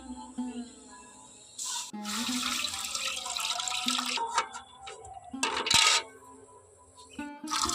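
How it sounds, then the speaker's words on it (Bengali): Water poured into a pot for steaming sweet yogurt (mishti doi), splashing and running in several bursts with brief pauses, close and fairly loud. "আমি এখানে দিয়ে দিচ্ছি জল"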